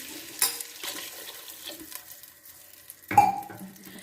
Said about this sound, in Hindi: पानी मैं इसमें अब ऐड करूँगी